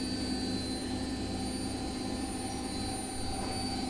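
A Bosch washing machine spins badly unbalanced at 1000 rpm with rugs inside, a loud, steady roaring whine with a low rumble, continuous and close, with no talk.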